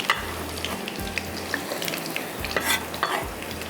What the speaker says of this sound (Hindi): अच्छा, ये अच्छी तरह से इसको हमने ब्राउन करना है प्याज को।